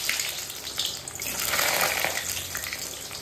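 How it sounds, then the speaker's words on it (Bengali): Potatoes frying in hot oil in a home kitchen, a steady broadband hiss and crackle that swells midway, continuous and fairly close with no voices. "তেলটা গরম হয়ে গেছে, তো আমি আলু কটা আগে একটু ভেজে নেবো"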